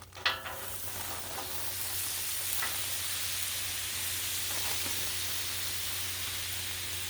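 Tortellini sizzling on a seasoned Blackstone flat-top griddle, a steady broad hiss that holds for several seconds after an initial splash as the pasta hits the hot surface, close and continuous with no talking.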